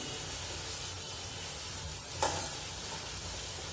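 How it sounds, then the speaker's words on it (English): Pieces of mutton sear in a hot pan with onion, ginger garlic paste and whole spices, giving a steady close sizzle with one brief sharper spit partway through, and no talking. "we need to sear the pieces of mutton nicely"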